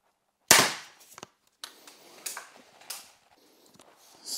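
A test shot from an X-Bow FMA Supersonic Tactical crossbow, one sharp, loud snap followed by a few softer knocks and rattles, close by with no talking.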